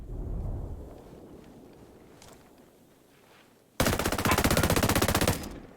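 Automatic gunfire in the video game Ghost Recon Breakpoint breaks out as a loud, rapid, evenly spaced burst lasting nearly two seconds, after a stretch of quieter rumbling background.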